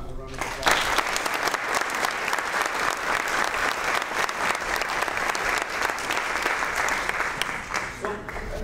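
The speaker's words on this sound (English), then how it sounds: "So please give them a round of applause." A crowd breaks into sustained applause, clapping steadily and loudly for several seconds before starting to taper off.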